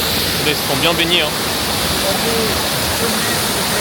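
A tropical waterfall on Lombok, Indonesia, roars as a steady, loud, broadband rush throughout, with people talking briefly over it.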